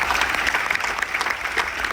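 Audience on a cruise ship gives a round of applause at a military tribute, a brief burst of dense clapping from a room of people, steady and moderately loud.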